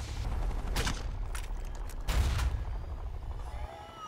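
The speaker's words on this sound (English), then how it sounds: "I'm very good with grenade launchers." Grenade launcher shots and blasts in Fallout New California, a few heavy booming thumps with rumbling low-end tails over a continuous game background, fairly close and loud.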